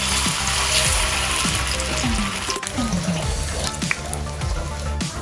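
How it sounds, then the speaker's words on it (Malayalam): Rice vada dropped into hot oil sets off a loud, continuous frying sizzle that stays dense and near throughout, with background music tones running underneath and no voices. "എണ്ണയിലേക്ക് പതിയെ ഇട്ട് കൊടുക്കാം"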